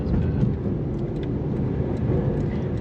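A 2009 Ferrari 430 Scuderia on the road, its engine giving a loud, steady low drone with road rumble from inside the cabin while cruising, with no talking over it.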